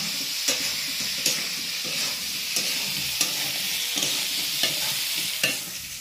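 Prawns frying in hot oil, with a continuous close sizzle broken by regular spatula scrapes and taps against the pan roughly every second, and no voices.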